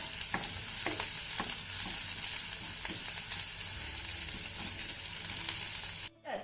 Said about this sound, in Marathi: आता ह्या मिरच्या देखील आपल्याला चांगल्या परतून घ्यायच्या